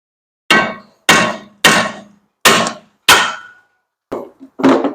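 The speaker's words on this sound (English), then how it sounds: "Now we just hit the rotor right there in the back." Hammer striking the rear brake rotor of a BMW Z3, seven sharp metallic blows at a steady pace, each loud hit ringing briefly before decaying, with the last two slightly weaker.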